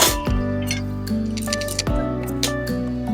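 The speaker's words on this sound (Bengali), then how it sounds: "ডালটা আমি জলের মধ্যে নামিয়ে নেব।" Fried dal, roasted for a few minutes until reddish, tipped into water in a cooking pot: loud sizzling and bubbling hiss with a couple of sharp splashing drops, close up with no one speaking.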